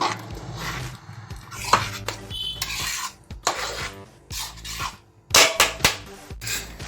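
A metal ladle scrapes and clanks around a pressure cooker of mutton kanji, giving irregular bursts of stirring, scraping and knocking close by with short pauses between them.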